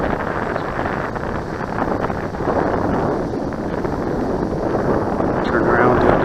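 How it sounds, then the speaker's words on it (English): Strong wind buffets the microphone at Aaron Bessant Park during an E-Flite Apprentice S15e RC plane flight, a loud continuous rumbling roar that fills the whole stretch. "I may have underestimated the wind"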